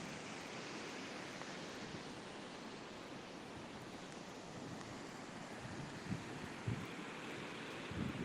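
Surf rolling onto San Bartolo Beach in Lima, Peru, a steady broadband wash of breaking waves with occasional louder thumps near the end, continuous and fairly close, no voices.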